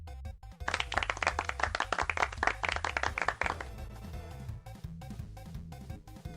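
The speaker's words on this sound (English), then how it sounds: "Nice, simple, small applause." A small applause sound effect, a modest handful of people clapping fairly close for about three seconds, then thinning into scattered claps and background noise.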